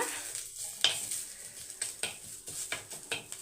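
Mixed vegetables for a Tamil kadamba poriyal sautéing in hot oil in a pan, a steady soft sizzle with scattered scrapes and stirring clicks, close and alone.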